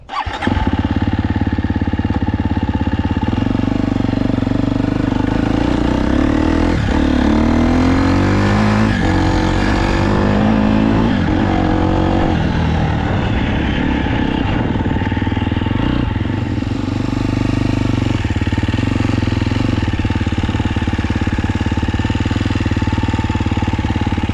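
A 2021 KTM 250SXF Troy Lee Designs Edition motocross bike engine runs continuously and loudly up close, a steady rough four-stroke idle with slight revs.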